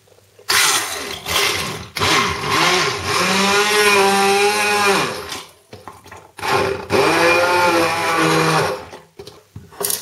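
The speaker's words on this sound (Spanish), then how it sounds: "Y ahora ya solamente nos queda batir." A kitchen blender purees romesco sauce ingredients, pulp and broth, in two loud whirring bursts: a long run followed by a shorter one, with a brief pause between.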